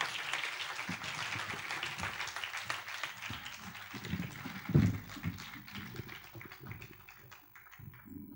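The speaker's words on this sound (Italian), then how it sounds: "vi accompagniamoli con un applauso" Applause from an audience for a band finishing its last piece at a commemorative music event, a dense ongoing patter of hands that rises briefly near the middle and then gradually thins out, with no voices over it.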